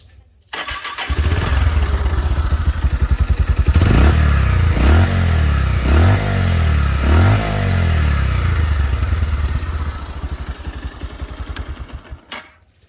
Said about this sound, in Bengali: আমি আপনাদেরকে ইঞ্জিনের সাউন্ডটা একটু শোনাই দিই।